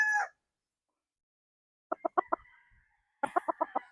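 A nine-month-old Gary Gilliam Roundhead gamecock stag, sired by a Golden Boy Sweater, gives a short call, then two quick bursts of rapid clucking notes close by, with silence between.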